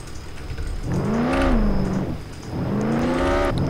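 Lamborghini engine in the Roblox Jailbreak game, a steady synthetic motor drone that swells in pitch twice as it revs, fairly loud with no talk over it.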